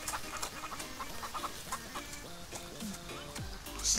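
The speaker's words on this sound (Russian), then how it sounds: "Курицы." Chickens cluck in a farm video game, with a steady stream of short clucks and squawks at moderate level continuing throughout. No voices are heard.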